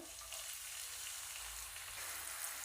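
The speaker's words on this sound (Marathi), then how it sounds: "कांदा तेलामध्ये चांगला फ्राय करून घ्यायचा आहे" Chopped onion frying in oil with cumin and bay leaf, a steady soft sizzle that stays even and fairly quiet throughout, with no voices.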